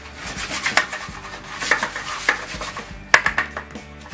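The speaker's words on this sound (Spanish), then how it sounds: "revolver un poco" Spoon scraping and clinking against a bowl while stirring a breadcrumb mixture with salt for milanesa coating, a run of soft rubs broken by several sharper taps, fairly close and with no talking.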